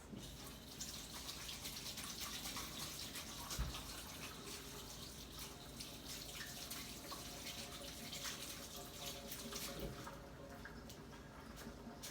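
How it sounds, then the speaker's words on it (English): Hands being rinsed under a running kitchen tap, a steady faint rush of water with small splashing changes, continuous and alone with no talk. "So I'm gonna go ahead and rinse my hands."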